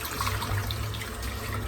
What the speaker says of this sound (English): rinse the brush out.